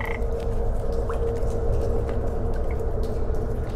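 Frogs croak in a cave in the horror game Cavephobia, a dense, steady chorus of rapid croaks that is moderately loud, with a few scattered clicks over it.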